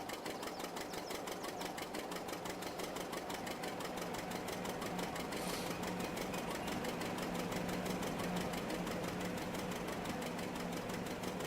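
A vintage John Deere 620 tractor engine runs steadily with a fast, even chugging pulse and a mechanical whine, close and continuous with no talk over it.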